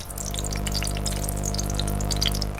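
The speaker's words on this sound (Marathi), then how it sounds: "हे बघा एकदम तांदूळ धुतलेत. चट चट चट चट आवाज येत असेल." Washed rice sits in water in a pot, giving off a steady close hiss with fine patters and drips and a low hum underneath, with no talking.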